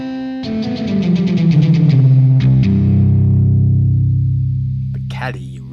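Electric guitar played through a Cali Reverb effect in Cubasis: a plucked chord and several picked notes ring out with a long, washy reverb tail that sustains and slowly fades, and a brief voice is heard at the end.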